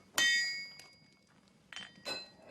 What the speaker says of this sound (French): quelques bons coups de marteau pour rectifier la pièce